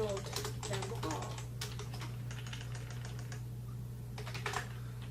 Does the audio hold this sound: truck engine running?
no